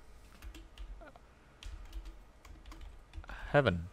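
Quick keystrokes on a computer keyboard clatter in uneven bursts, close up, with a louder key press near the end and faint voices in the background.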